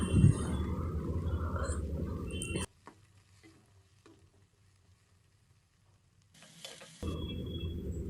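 Chopped onions hit hot oil in a pan and crackle with a loud, busy sizzle, which cuts to near silence for several seconds before the frying hiss returns close and strong.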